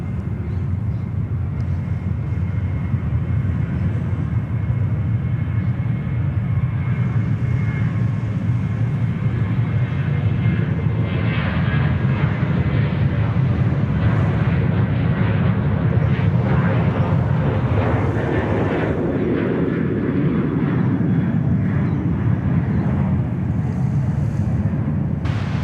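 An airliner departs Sydney Airport, its deep rumbling engine roar building and swelling across the whole stretch, with wind buffeting the microphone.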